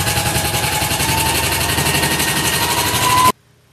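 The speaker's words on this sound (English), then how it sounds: "I'm just sewing that down" A sewing machine runs steadily, stitching layers of pink quilting fabric for a no-piecing baby blanket quilt, with a loud, continuous rapid hum of the needle for about three seconds before it stops abruptly.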